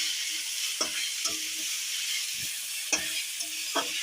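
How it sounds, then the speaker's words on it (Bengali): Water spinach (kalmi greens) sizzles steadily in a hot pan, with a handful of scraping stirs from a spatula cutting through the continuous frying hiss, close and fairly quiet, with no talking. "কলমি শাক ভাজা।"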